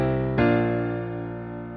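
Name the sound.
simple piano melody going from 6 to 5 to 4 chords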